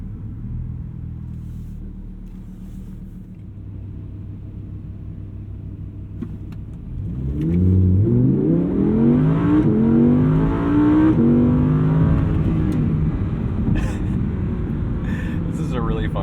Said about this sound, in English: there's definitely the desire to exercise this engine on downshifts